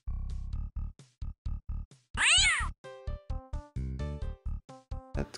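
Cartoon cat meows from the puzzle video game The Incredible Machine 3, a string of short repeated meows with one longer wavering yowl in the middle, loud and close, with no talking.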